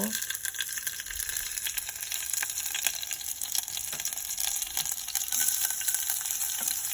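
Chopped onion and garlic fry in a pan with a steady, close sizzle. Occasional light stirring clinks break the even crackle, with no talking.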